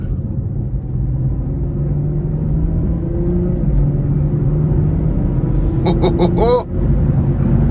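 A 2018 BMW 440i Gran Coupe with a 320 hp engine drives in Sport Plus mode, its steady engine drone and road rumble running throughout, broken near the end by a quick burst of sharp gear-shift pops and crackles.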